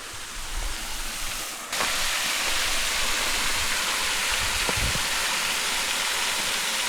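A loud, steady roar of rushing water from Songdam Falls in Songchu Valley nearby, broad and hissing, with a brief knock near the start.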